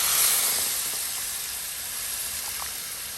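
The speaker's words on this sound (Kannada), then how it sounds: "ಈಗ ಇದಕ್ಕೆ ನಾನು ಹಾಕ್ತಾ ಇದ್ದೀನಿ 1 ಕಪ್ ಅಷ್ಟು ತೆಂಗಿನ ಹಾಲು." Coconut milk hitting a hot pan of chicken fried without oil gives a steady, broad sizzling hiss that eases slightly after the first moment and holds fairly constant, with no talking.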